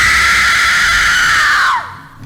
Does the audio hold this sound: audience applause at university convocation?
no